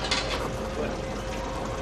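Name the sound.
washing machine in the video game Outlast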